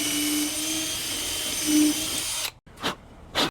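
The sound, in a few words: electric drill boring pocket holes in wood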